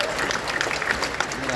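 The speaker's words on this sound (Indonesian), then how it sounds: "Tepuk tangan sekali lagi untuk Bapak Zulkifli Hasan." An audience at a political party congress applauds a speaker, a dense, steady wash of clapping from a large crowd that fills the hall with a voice faintly mixed in.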